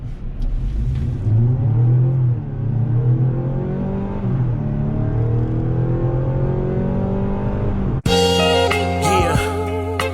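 A Mazda CX-90 plug-in hybrid accelerating from 0 to 60, a loud steady engine drone rising in pitch through the gears, heard from inside the cabin, ending with music cutting in.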